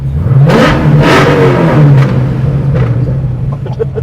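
An 800-horsepower supercharged 1969 Camaro widebody revs hard and loud at close range, with several big throttle surges rising and falling over a deep, steady rumble.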